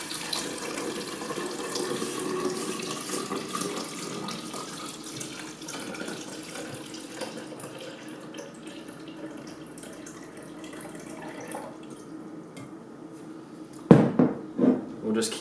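Tap water runs steadily into a container to top up fixer solution for C41 film processing, a continuous mid-level stream that stops near the end with a clunk.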